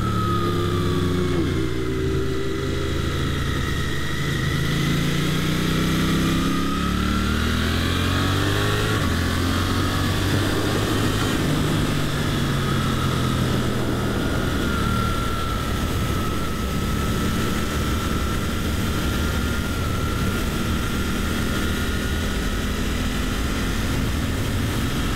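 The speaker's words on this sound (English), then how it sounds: "we're gonna hop on the highway and see what this bike feels like at true highway speeds" A 2023 Suzuki GSX-8S motorcycle accelerates at highway speed, its engine note rising through the gears under heavy continuous wind rush and road roar.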